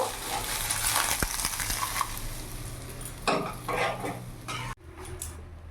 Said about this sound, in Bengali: চটপট করে মোরলা মাছগুলো ভেজে নিলাম